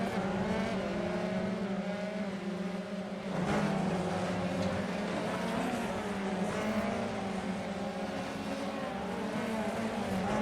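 F3 race cars in a racing video game at the Red Bull Ring, a steady droning engine note at high revs held for several seconds with a brief surge partway through, moderately loud and continuous.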